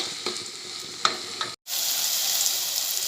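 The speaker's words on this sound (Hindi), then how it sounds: "तेल के प्याज के अंदर अच्छे से भूनूंगी, नरम होने तक" Onions and tomatoes fry in hot oil for mutton kheema, a close steady sizzle with a few stirring scrapes, briefly cut off, then returning as a louder, even hiss.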